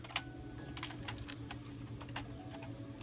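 A large number 1 screwdriver works screws out of a laptop, producing quick irregular clicks and small metallic ticks over a low steady background hum.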